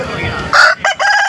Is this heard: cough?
no